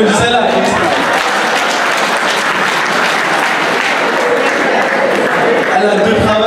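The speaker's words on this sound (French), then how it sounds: "vous pouvez l'applaudir, celle-là" Wedding anniversary guests break into loud, sustained applause with a few cheers, continuous from start to finish while voices talk faintly beneath the clapping.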